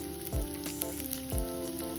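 Tempering of chana dal, dried red chilli and curry leaves sizzles in hot oil for a village-style okra chutney, a steady close crackle with two brief low thumps as ingredients drop in.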